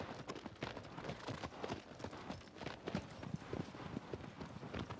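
Galloping hooves of the horse Agro in the video game Shadow of the Colossus, a fast, steady clip-clop drumming close and loud for the whole stretch, with no talk over it.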